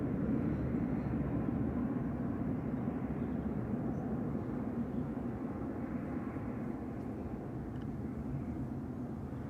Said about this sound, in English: Jet 2 coming in from Chris- Prague.